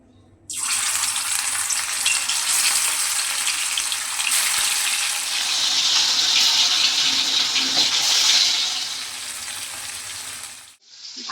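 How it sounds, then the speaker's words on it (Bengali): Marinated chicken pieces dropped into hot mustard oil, bursting into a loud, steady crackling sizzle that holds close and even for about ten seconds before cutting off. "এই চিকেনগুলোকে আমি এই গরম তেলে ভেজে নেব"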